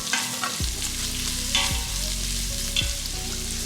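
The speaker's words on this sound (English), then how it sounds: "We are going to let this onion cook for about 5 minutes until it's softened and translucent" Thinly sliced white onion fries in rendered beef fat with a lively close sizzle, broken by a few clanking stirs and scrapes of a utensil against the pot.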